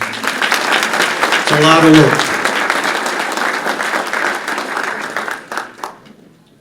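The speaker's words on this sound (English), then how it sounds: "I think you should get a nice round of applause for that" A hall of fame ceremony audience at a high school athletic event claps in a steady, full round of applause, with a voice briefly speaking over it partway through before the clapping thins out at the end.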